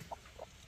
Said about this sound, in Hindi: तो ये थी मुर्गी की बांग।